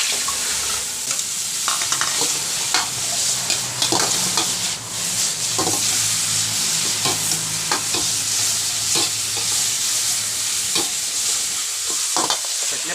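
Kale with crispy pork stir-fried in a hot wok with a mixed sauce, with steady sizzling and frying and repeated sharp scraping strokes of the spatula, loud and close for the whole stretch.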